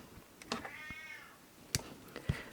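A cat gives one drawn-out meow, faint and somewhat distant, in a quiet room with a few sharp clicks and taps around it.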